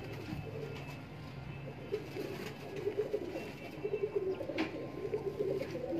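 A male and female pair in a breeder's loft in inner Lahore give repeated rhythmic coos that build through the second half, fairly close over a soft room hum.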